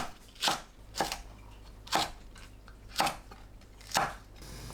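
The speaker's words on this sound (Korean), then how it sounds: "청양고추를 어슷 썰어주세요" A knife cuts through Cheongyang chili peppers on a board, slicing them diagonally in five sharp, evenly spaced chops, close and crisp, with no talking.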